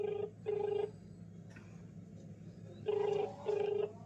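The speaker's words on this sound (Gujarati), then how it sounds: "તમને સંભળાવો રિંગ" An outgoing phone call rings back through the handset: two pairs of double ring tones, each pair about a second long, separated by a pause, quiet and alone over faint hiss.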